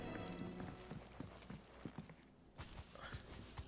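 White chocobo running in the Final Fantasy XVI video game, a quick irregular patter of clopping footfalls, quiet and fairly close, with game ambience around them and no talk.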